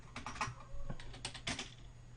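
Typing on a computer keyboard while writing code, a steady run of quick close keystrokes in short bursts with brief pauses, no talking.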